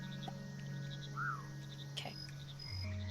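Frogs croak in the video game Mudborne, a few short, close calls and a brief rising chirp over a steady low game hum and faint ambient tones.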